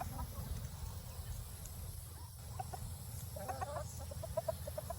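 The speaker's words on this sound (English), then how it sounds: "It's easy to talk to a chicken." A flock of chickens clucks and murmurs close by, with soft, repeated calls rising over a steady low rumble. The calls are brief and irregular and grow busier toward the end. No one speaks.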